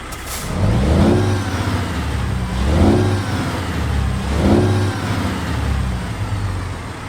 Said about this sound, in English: this 49X is powered by a Cummins X15 engine, that being a 605 horsepower variant, with the sounds coming from the engine and transmission compilation mod